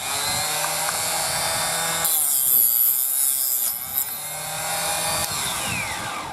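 A power tool cuts .223 brass cases down for a Nagant revolver, a loud whirring whine that strains and shifts as the cut goes through the metal, then returns to a steady running hum.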